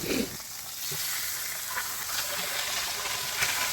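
A fatty chuck roast sears in a cast iron pan with a steady, dense sizzle and hiss, close up and continuous, broken by occasional pops and crackles.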